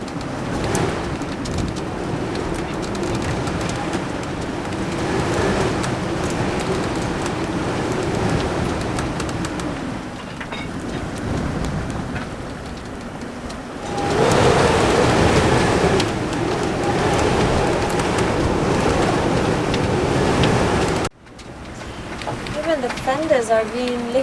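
Storm wind howls around a sailboat at anchor in gusts near 57 knots, with rain and waves roaring in a loud, continuous wash that surges louder midway before dropping off abruptly, with voices heard near the end.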